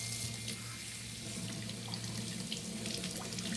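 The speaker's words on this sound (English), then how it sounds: "Nice cold water. If you're at home, you can use a brush or stronger pressure water." Cold water runs steadily from a tap over a bass being rinsed, a constant close splashing hiss with no talking.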